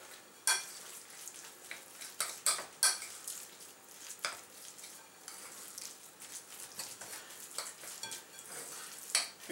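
Portobello mushroom and meat mixture being stirred in a pan, with scattered clinks and scrapes of a utensil against cookware over a soft sizzle, fairly close and irregular in rhythm.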